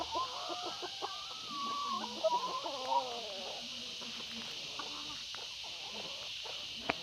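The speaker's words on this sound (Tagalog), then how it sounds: "Ito ay pabo lang." Caged turkeys on a rural farm in the province give a run of warbling, clucking calls, several overlapping at close range over a steady hiss, fading to scattered softer calls and knocks.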